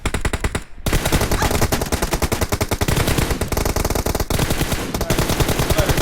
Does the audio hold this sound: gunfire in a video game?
yes